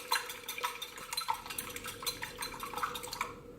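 Eggs beaten in a bowl with a whisk or fork for a folded omelet: quick, rhythmic metallic clinks and scrapes against the bowl, close and fairly light, with no talk.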